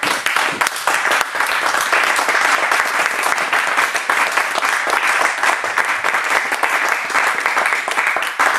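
A church congregation applauding loudly and continuously, a dense wash of many hands clapping that fills the whole stretch without a break.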